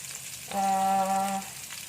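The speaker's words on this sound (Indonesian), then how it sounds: "Kita tumis ini biar sari-sari kepala udangnya bisa keluar ya." Shrimp heads sauté in butter and a little cooking oil, giving a soft, steady sizzle. A short tonal hum rises over it in the middle.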